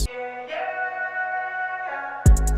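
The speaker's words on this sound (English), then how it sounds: "Now you want to get the ambient background vocal" Soft, airy layered vocal tones hold sustained notes with a washed, reverberant feel, fairly quiet, ending with a louder low thump and bright clicks.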